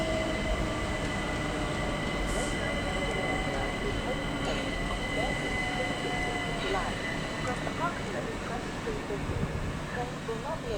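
Train passing at Sevenoaks station with a continuous loud rumble of wheels on rails and occasional faint squeals. A voice is heard over the rolling noise.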